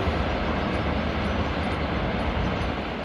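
A train rolls past as a steady, dense rumble that holds for the whole stretch, loud and continuous with no voices.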